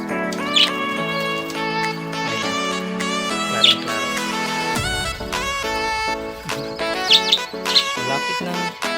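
Pet budgies in a home breeding setup chirp and tweet continuously, a dense busy chatter of many birds close by, with sharp high calls breaking out over the layered warbling throughout.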